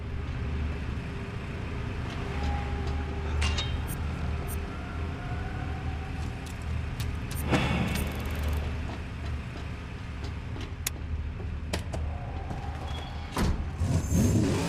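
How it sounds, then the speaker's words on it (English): Engine of the 12, a nitro-equipped car in the Mad Max video game, drones steadily while driving, with a low continuous rumble, occasional revving surges and scattered clanks and rattles throughout. "This vehicle, I believe, is called the 12, and it also comes with nitro"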